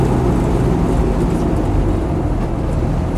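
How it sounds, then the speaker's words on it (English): Land Rover 90 diesel hardtop on modular wheels with off-road tyres driving along, a loud steady low rumble of engine and tyre roar filling the cabin with no talk. "modular wheels with off-road tyres, which are a little bit noisy, it's fair to say, the tyres, but not too bad."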